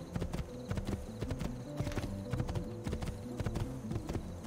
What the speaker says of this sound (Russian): Нет, вот сюда, поворот, поворот, лошадка, поворот. Скакай, скакай.